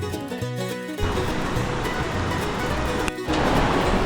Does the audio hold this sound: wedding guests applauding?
no